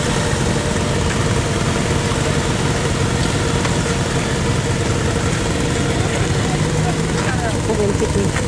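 A rally car engine runs loud and close, a dense rumbling idle filling the whole stretch at a rally event, with no clear start-up burst standing out.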